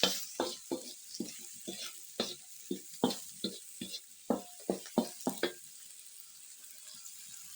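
Food stirred in a cooking pot in an African village kitchen: a run of sharp, irregular scraping knocks of the spoon against the pot over a soft sizzle, close by, tapering off toward the end.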